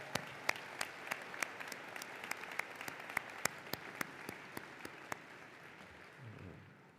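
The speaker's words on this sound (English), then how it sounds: "please give a round of applause to our faculty and staff for their dedication and hard work" Commencement audience at a winter graduation applauding faculty and staff, sparse, distant clapping with a few sharp individual claps standing out, fading toward the end.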